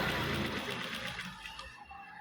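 Sewing machine stitching fabric about half an inch from the edge, a dense steady whir that runs loud and close, then eases slightly toward the end.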